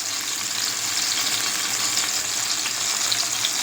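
Fish frying in mustard oil over a lowered flame, giving a continuous, bright, hissing sizzle close to the listener with an even level and no voices.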